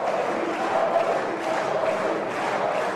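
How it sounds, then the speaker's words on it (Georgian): Applause and cheering fill a parliament session hall, a dense, steady crowd roar of clapping and shouts that holds at an even level from start to finish. "შემდეგ იყო ტაში და სხდომათა დარბაზში. დიდხანს ისმოდა შეძახილები."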